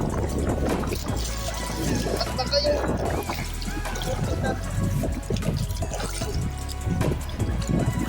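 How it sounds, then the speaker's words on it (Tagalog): Strong, rising sea waves surge and crash against a rocky shore, a continuous loud wash of water with repeated heavy swells, while people talk briefly over it. "medyo lumalakas na yung alon"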